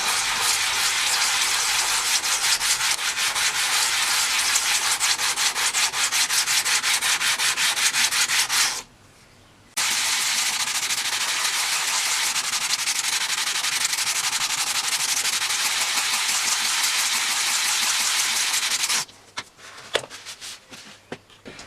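An old oil sharpening stone being flattened by rubbing it on sandpaper, a loud, continuous gritty scraping in rapid back-and-forth strokes, broken by one short pause and ending in a few scattered scrapes.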